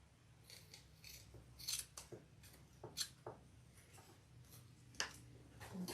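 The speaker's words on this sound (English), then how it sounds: "Trim your zipper." Small scissors snip at the zipper of a leather wristlet crossbody bag, a handful of faint, sharp cuts spaced irregularly in a quiet room.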